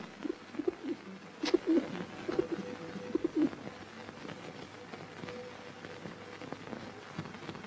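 Domestic pigeon cooing outdoors in a quiet setting, a few soft low coos in the first half that then fade into faint ambient background.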